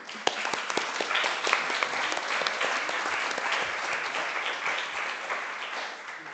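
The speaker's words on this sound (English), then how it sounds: "Applaud to them too" Sustained applause from a conference audience for interpreters and student organizers, a dense, even wash of clapping that holds steady and eases slightly toward the end.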